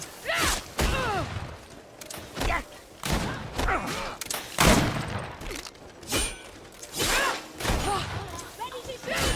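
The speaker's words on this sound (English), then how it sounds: "Ready to shoot! Fire!" Musket volleys in GreedFall boom repeatedly in uneven clusters of heavy reports and clattering impacts, moderately loud, with shouting voices mixed in.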